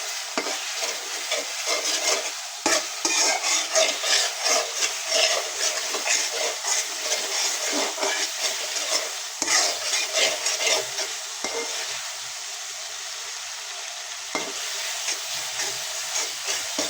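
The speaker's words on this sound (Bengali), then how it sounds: "খুব ভালোভাবে কষায় নেব, মশলা যখন কাঁচা গন্ধটা না থাকে" Spice masala for a beef head curry is stir-fried in oil, a continuous loud sizzle and hiss with rhythmic scraping and stirring strokes of a utensil against the pan, and no talking.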